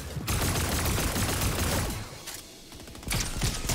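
Dense, rapid gunfire rattles through a Fortnite match, a near-continuous fusillade of overlapping shots that dips briefly before resuming at full intensity, loud and close, with no voices.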